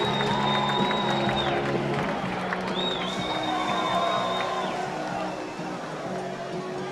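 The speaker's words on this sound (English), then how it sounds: "big round of applause" Audience at a Psicobloc Masters deep-water solo climbing competition applauds and cheers steadily over a broad crowd roar, with whistles rising above the din and announcer speech mixed in, tapering slightly toward the end.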